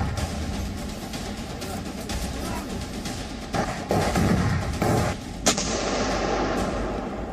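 Russian artillery attacks in Luhansk, with repeated heavy booms and thuds over a dense, noisy background and a few sharper blasts near the end, loud and continuous.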